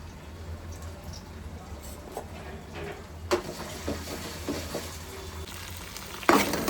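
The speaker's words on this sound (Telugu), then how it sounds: "ఆనియన్స్ వేగిన తర్వాత అయితే అల్లం వెల్లుల్లి పేస్ట్ వేస్తున్నాను" Onions frying with ginger garlic paste in a pan, an even low sizzle with occasional stirring scrapes and a sharper clink near the end, fairly quiet and without speech.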